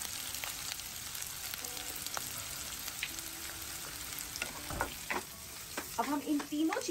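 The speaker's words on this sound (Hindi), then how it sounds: "ऑयल में हम प्याज, कैप्सिकम और लहसुन ये तीनों डाल के सौते करेंगे" Onion, capsicum and garlic sauté in hot olive oil for a chicken recipe, giving a steady close sizzle with scattered clinks and scrapes of stirring, growing busier near the end.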